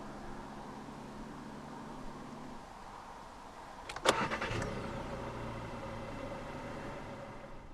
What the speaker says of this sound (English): insert the key into the slot right here, and twist the key like you would in a normal car.